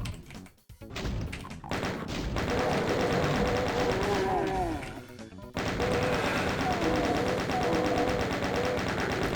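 Dense rapid gunfire from a Doom chaingunner, sustained bursts with thuds and crashing impacts in a busy game fight, loud and continuous with a brief gap near the middle.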